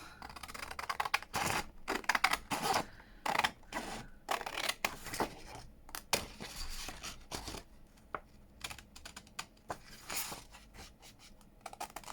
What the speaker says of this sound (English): I'll get my big scissors and get that cut out.